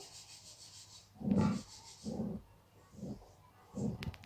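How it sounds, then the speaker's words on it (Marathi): Thick cake batter being worked together by hand with ghee added a little at a time, giving four soft, rhythmic squelching rubs at a close, moderate level with quiet pauses between. "थोडं थोडं तूप टाकून आपण हे मिश्रण एकजीव करून घेऊ"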